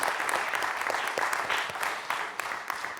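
Studio audience applause on the French quiz show Questions pour un Super Champion during its final, a brisk, continuous burst of many hands clapping with no speech over it.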